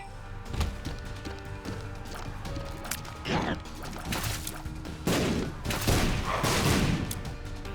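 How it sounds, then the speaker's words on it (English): Sticky bombs going off in The Binding of Isaac: Afterbirth, a rapid string of sharp bursts and crashes over game music and effects, moderately loud, with a few heavier blasts near the end. "God, them sticky bombs sure get to work"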